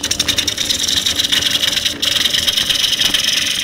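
A 1930s one-inch spindle gouge with a fingernail grind cuts wood on a lathe, giving a continuous close scraping hiss with a fast rhythmic pulse from the spinning workpiece.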